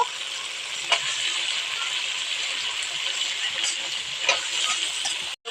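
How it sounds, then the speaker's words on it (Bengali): Meat sizzles steadily in a pan as it is stirred, a broad hiss with a few sharp scraping clicks from the spoon, close and moderately loud. "ওই মাংসটা ভালো করে আমি একটু নেড়ে নেব"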